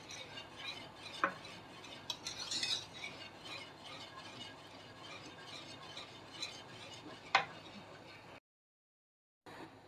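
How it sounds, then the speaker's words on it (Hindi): Custard is stirred nonstop in a pan over a low flame, giving a faint, continuous scraping swish with a couple of soft clinks before a short silence near the end. "और साथ साथ इस तरह आपने हिलाते जाना है, रोकना नहीं है इसको"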